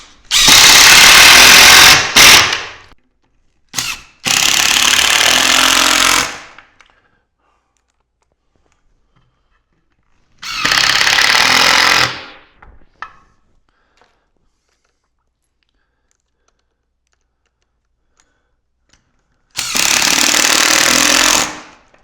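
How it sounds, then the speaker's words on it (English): A power drill drives 1¼-inch grabber screws into wood, four loud close bursts of rattling, buzzing motor running a couple of seconds each with long quiet gaps between them. "we'll go ahead and finish getting the rest of the screws in here"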